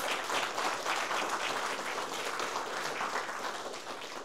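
Sustained applause from a large audience at a political rally in Gwangju, dense and steady throughout with no break, the clapping filling the space evenly from start to finish.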